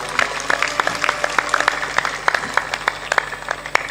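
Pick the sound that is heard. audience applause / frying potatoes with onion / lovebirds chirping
audience applause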